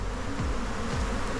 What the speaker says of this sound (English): Ton of bees, dropped a whole bunch of bees over here.